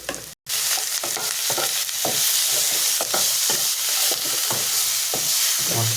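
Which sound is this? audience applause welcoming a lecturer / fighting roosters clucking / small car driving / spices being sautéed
spices being sautéed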